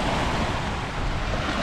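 Small waves wash continuously onto the Keweenaw Bay shore on a July day, a broad steady rush mixed with wind buffeting the microphone and no speech.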